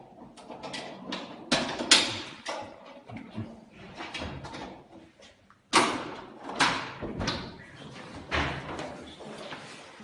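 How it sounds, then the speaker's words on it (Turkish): Heavy thuds and bangs of people forcing a door, irregular and loud with bursts of impact and rattling, with voices in the background. "Şu anda kapıyı kırmaya çalışıyorlar."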